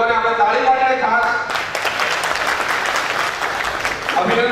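A seminar audience claps together in a burst of applause that swells and holds steady, with a speaker's voice heard before the clapping and again as it fades.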